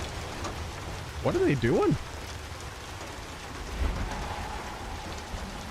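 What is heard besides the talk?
heavy rain in the video game Hunt: Showdown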